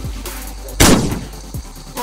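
Gunfire in a Roblox murder mystery game, one loud sharp blast in the middle followed by a smaller shot, with lighter popping bursts around them.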